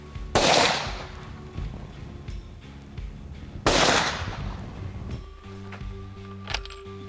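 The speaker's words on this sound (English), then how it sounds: "We have shot this rifle once before, and we're going to re-zero it, or just shoot it again" Two loud, close rifle shots fired while re-zeroing a hunting rifle on an African leopard hunt, each a sharp crack with a decaying echo, about three seconds apart, followed by quiet outdoor background.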